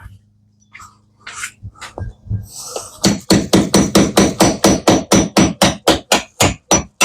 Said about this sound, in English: Let's grab the hammer.